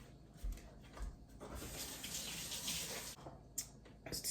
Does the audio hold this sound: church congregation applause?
no